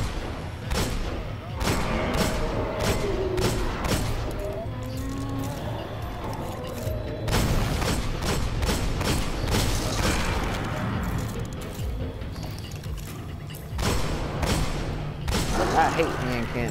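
Hand cannon fire rings out in the video game Destiny, with irregular bursts of sharp shots clustered in volleys and gaps between them, while players talk over the action.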